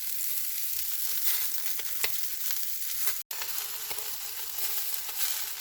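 Chicken cooks over an open wood fire, making a steady, dense sizzle with occasional sharper pops and crackles. The sound is continuous and fairly close, with no voices.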